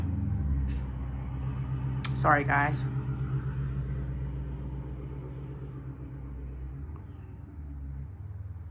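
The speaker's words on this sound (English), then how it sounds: "My car is really loud." A loud car engine rumbles low and steady as the car pulls out of a driveway, with a person briefly speaking over the deep drone.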